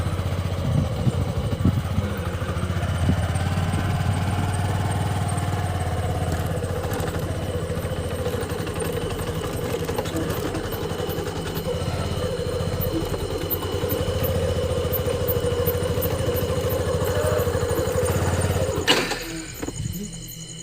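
A motorcycle engine idles steadily with a low, even putter, some clatter near the start, cutting off abruptly near the end.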